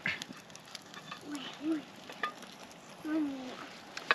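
A slice of meat crackles and sizzles softly in a hot pan, a steady low fizz with small pops, while voices speak quietly nearby in French.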